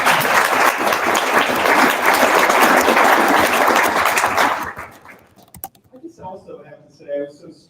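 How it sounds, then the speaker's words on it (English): An audience at a state and national service symposium breaks into dense, loud applause that lasts several seconds, then fades quickly to scattered claps before a voice begins speaking. "Another round of applause for that."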